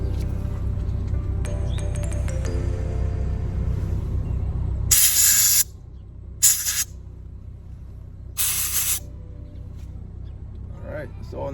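A pest control aerosol can gives three short, sharp hissing sprays in quick succession, after a low rumbling background fades out.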